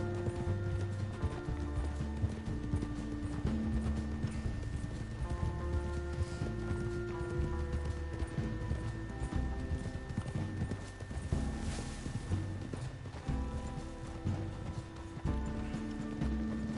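A horse carrying a heavy load in Red Dead Redemption clip-clops steadily along, its hoofbeats continuous and rhythmic under a faint game soundtrack with low droning tones.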